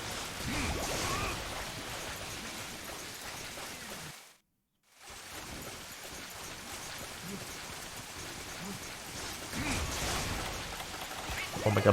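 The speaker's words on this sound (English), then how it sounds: "I love how loud the raining sound is in the old games." Loud rain from an old video game pours steadily as a dense hiss, cutting out briefly near the middle before returning, with occasional talk underneath.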